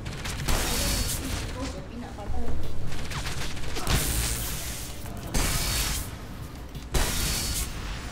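Gunfire in the video game Enslaved: Odyssey to the West as the player shoots back, repeated loud bursts of shots every couple of seconds over continuous game noise.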